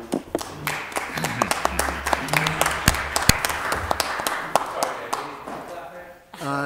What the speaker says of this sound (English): It was very light clapping.